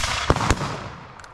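At an outdoor Revolutionary War battle re-enactment in wet weather, muskets discharge in a loud, close volley, with a couple of sharp reports over a broad roar that slowly fades.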